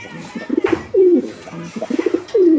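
Pigeons cooing at a pigeon farm, with several close, low, rolling coos in bursts and soft fluttering murmurs between them, and no speech.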